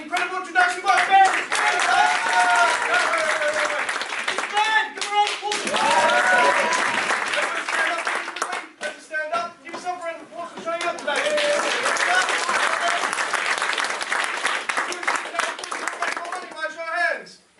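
A live audience at a motivational talk gives a long, steady round of applause, a dense wash of clapping that dips briefly near the middle before swelling again, with voices speaking over it at points.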